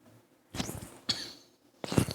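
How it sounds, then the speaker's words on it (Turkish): Three harsh coughs, close to the microphone, spaced about half a second apart with quiet gaps between them. "Pardon arkadaşlar sesi geldiyse biraz öksürüm."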